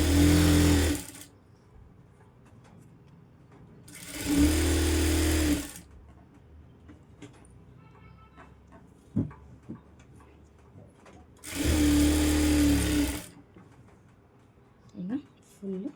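A sewing machine stitching a designer blouse sleeve runs in three short bursts of a second or two each, separated by quieter stretches of handling noise and faint talk.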